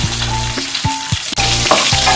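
Crushed garlic and mustard seeds sizzle loudly in hot cooking oil for a tempering, with a steady close crackle broken by a few stirring scrapes.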